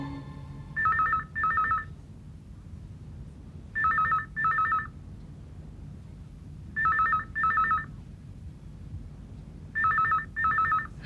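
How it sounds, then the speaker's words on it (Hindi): Telephone ringing in a quiet room, four double-ring bursts spaced a few seconds apart, bright electronic trills with silence in between. "इस वक्त किसका फोन हो सकता है?"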